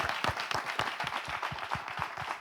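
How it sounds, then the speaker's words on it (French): Audience applause with a steady, rhythmic beat of clapping, continuous and fairly loud throughout. "ça s'applaudit, mesdames et messieurs"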